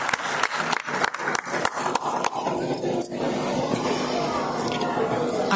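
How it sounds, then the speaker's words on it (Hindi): Audience applause at a women's honour ceremony, sharp clapping at first, then a dense steady roar of many hands that continues to the end, with voices mixed in. "जोरदार तालियां हमारी बहन की"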